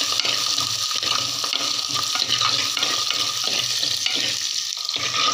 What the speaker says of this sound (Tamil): இது எண்ணெயில் நல்லா வதங்கட்டும்.